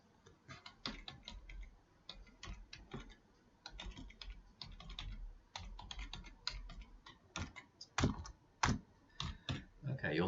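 Rapid clicking keystrokes on a computer keyboard, typed in uneven bursts at close range with a few heavier presses toward the end.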